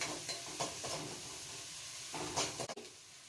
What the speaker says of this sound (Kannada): ಸ್ವಲ್ಪ ಶುಂಠಿ ಬೆಳ್ಳುಳ್ಳಿ ಪೇಸ್ಟು, ಒಂದು ಸ್ಪೂನ್ವರೆಗೂ ಹಸಿ ಸ್ಮೆಲ್ ಹೋಗೋವರೆಗೂ ನೀಟಾಗಿ ಫ್ರೈ ಮಾಡ್ಕೊಳ್ಳಿ